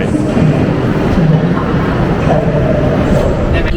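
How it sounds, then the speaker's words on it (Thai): Steady rumbling rail noise fills a busy high-speed rail station in Laos, with a low droning hum and faint murmur of people in the background throughout. "ตอนนี้ครับกำลังจะขึ้นรถไฟความเร็วสูง"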